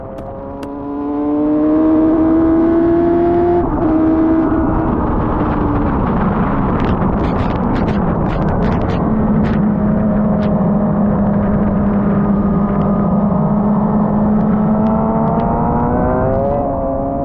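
An F1000 race car engine drives on a very wet Silverstone track, loud and close, rising and falling through gears with sustained drones, spray hiss and brief crackles, no voices.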